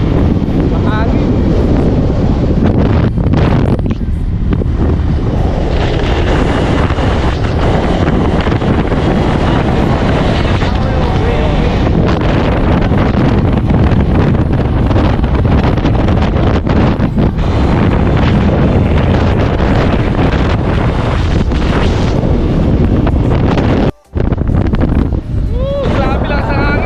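Heavy wind buffeting the microphone in a constant loud roar, with voices occasionally breaking through and a brief dropout near the end.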